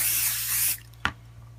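Close, sustained hiss of an aerosol can spraying adhesive onto a fabric backing piece for an appliqué candle mat, cutting off sharply, followed by a single soft tap and quiet room tone.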